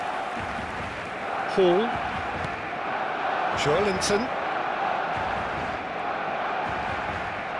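Stadium crowd in eFootball 2026 during a Barcelona versus Newcastle United Champions League match, a steady roar of cheering and chanting under a commentator's voice, with a brief louder swell.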